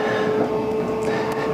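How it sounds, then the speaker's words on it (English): A steady interior rumble of a train on rails in Scotland, heading for Irvine, with a faint tonal whine, continuous and close, with no one speaking. "I'm on a train."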